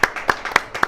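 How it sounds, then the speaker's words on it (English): Spontaneous applause from a small group after a producers' event, a few quick, sharp hand claps in a loose rhythm, close and brief. "Spontaneous applause."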